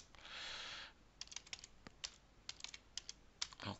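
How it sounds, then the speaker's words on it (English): Keys tapped on a computer keyboard during a virtual machine setup, a quiet close run of separate clicks in short bursts after a soft initial hiss, with no voice. "So typing password again, EVE."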